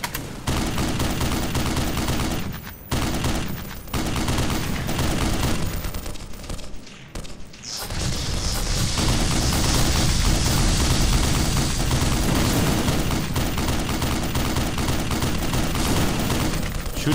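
Rapid gunfire in the Black Mesa video game, a loud, dense rattle of automatic shots in long bursts broken by brief pauses, then a sustained stretch of continuous firing near at hand.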